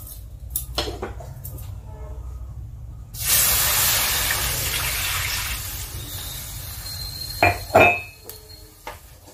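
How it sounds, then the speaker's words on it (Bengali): Water poured out of a wok holding fried moong dal, a sudden loud splashing hiss that runs for several seconds and then tapers, followed by a couple of brief clanks of the pan. "এবারে আমি এই জলটা ফেলে দিচ্ছি।"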